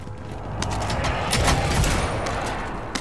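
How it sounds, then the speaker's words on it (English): Rapid gunfire in Call of Duty: Modern Warfare crackles in a steady stream of sharp shots over a dense rumbling background, fairly loud and continuous, with no talking. "there is shooting happening in there"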